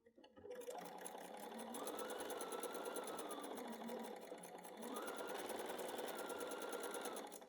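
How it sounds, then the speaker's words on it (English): A sewing machine stitches pieces onto a fabric door banner in a steady, fast mechanical whir, running in two long close-up bursts with a brief slowdown between them. "let's go stitch these on"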